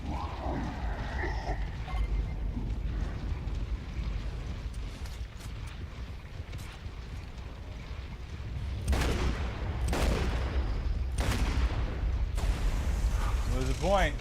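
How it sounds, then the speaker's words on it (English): Gunfire in Gears of War 2: a run of sharp, loud shots and bursts over a low rumbling game soundscape, with a voice talking early on. "Where did that gunshot come from?"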